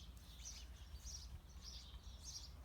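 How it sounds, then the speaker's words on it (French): Birds sing in a quiet garden in April, faint chirping phrases repeating at a distance over a soft low background hum. "Je peux voler avec les oiseaux dont j'entends distinctement le chant"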